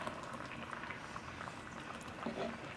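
Home-style curry of mango, jackfruit seeds, drumsticks and dal boils in a pot with a steady, dense bubbling and popping that stays even and close throughout.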